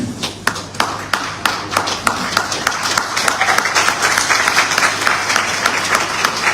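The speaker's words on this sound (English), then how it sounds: "If you want to clap, clap." Graduation ceremony audience at the UWI Global Campus clapping: a few separate, sharp claps first, then thickening into steady, continuous applause from many hands.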